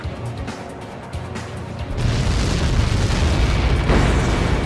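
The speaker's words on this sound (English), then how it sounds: "How many got caught in that explosion?" A missile strikes in the Ace Combat 7 flight combat game, setting off a deep, rumbling explosion that swells after a brief quieter stretch and roars on loudly to the end.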